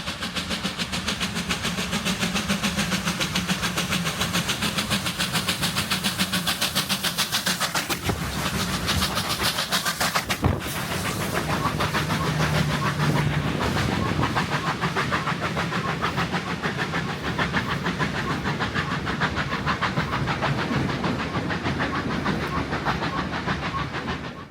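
Two R-Class steam locomotives labour steadily up Chewton Bank near Castlemaine, a continuous loud chuffing and rumble with rail clatter, holding close and constant throughout.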